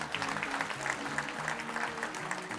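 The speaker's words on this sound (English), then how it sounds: "Another round of applause to the CERT team as well." Audience at the CyberChess 2025 conference opening plenary applauds: a soft, even patter of many hands clapping, heard from a distance for a few seconds with no voices over it.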